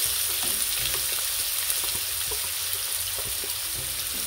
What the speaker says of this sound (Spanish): Ahora esto ya está caliente, el aceite, voy a añadir la cebolla.